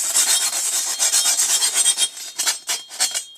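Waterproof 180 grit wet-dry sandpaper rubs steadily against a dull blade in a rough, rasping scrape, repeated in quick strokes that come close and fairly loud with no talking.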